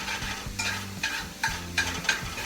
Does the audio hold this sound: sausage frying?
yes